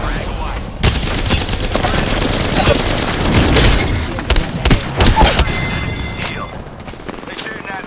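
Loud, close gunfire in the video game Apex Legends, rapid bursts and volleys with booming impacts throughout, while a voice talks over the shooting.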